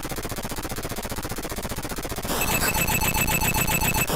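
Shooting in the Atari 2600 game Gas Hog, rapid buzzy repeating electronic blasts in a fast pulsing rhythm, shifting to a harsher, brighter tone partway through, loud and continuous.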